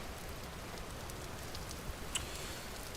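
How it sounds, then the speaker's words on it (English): Rain falls steadily in the video game Vintage Story, a soft, even wash of hiss with one or two faint ticks near the end. "It's raining, so we don't have to water them."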